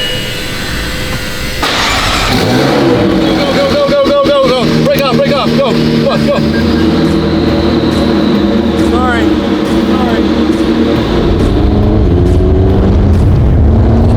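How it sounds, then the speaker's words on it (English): A powerful Ferrari engine roars and revs loudly in an echoing parking garage, starting abruptly and then holding a strained, booming drone while someone shouts briefly. "let's hear just how loud this car is in this parking garage"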